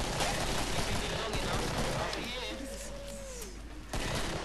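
Gunfire in the Killing Floor video game: a dense, continuous burst of shots filling the whole clip, loud and close, with game effects and a brief tonal whine partway through.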